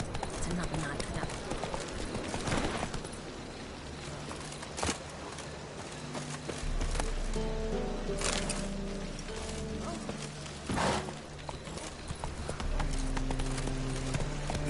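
Roach, the horse, gallops in the video game with steady clip-clop hoofbeats. Game music and ambience run under the hooves, and a voice speaks over the action.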